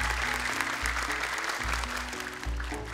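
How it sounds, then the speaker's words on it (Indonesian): Studio audience clapping at an Indonesian children's Quran recitation show, a steady dense patter of hands lasting throughout under low music, fairly close and even in loudness. "Boleh tepuk tangan untuk pembagian kelompoknya."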